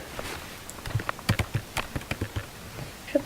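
Someone types on a computer keyboard in quick, irregular clicks, a dozen or so close, crisp keystrokes with short pauses between them.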